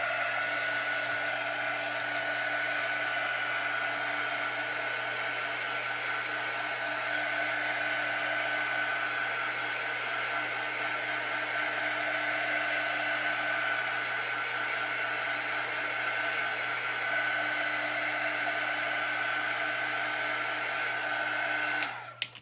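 A hair dryer blows steadily at close range for over twenty seconds while drying a craft piece decorated with green embellishments. Its whirring hum and airy rush hold constant, then it clicks off abruptly at the end.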